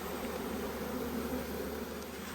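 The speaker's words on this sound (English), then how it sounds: "So I've just shaken the bees off this frame" Honeybees buzz in a continuous, even drone around an opened hive during an inspection, close and quiet with no voices.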